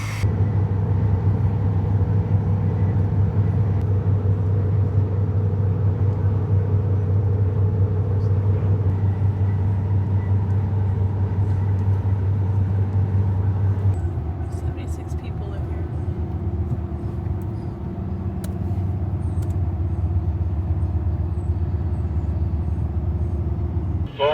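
A truck pulling a harvest header on a long-distance fall haul, with a steady low engine drone and road rumble throughout that eases slightly partway through; no talk over it.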